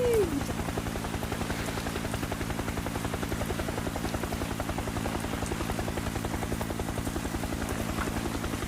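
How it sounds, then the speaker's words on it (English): Cartoon helicopter rotor thumps fast and steadily in a close, continuous drone during a rescue from a storm, with voices talking over it. "finally you're in the helicopter"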